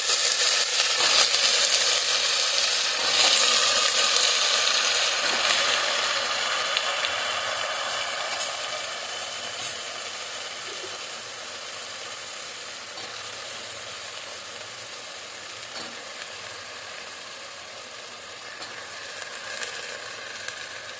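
Chopped raw papaya and potato hiss in hot oil in a pan, a loud steady sizzle that slowly softens and settles with occasional crackles.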